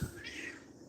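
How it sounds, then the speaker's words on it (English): A single short cat meow, close and fairly soft, over a quiet background. "And you can hear him meowing."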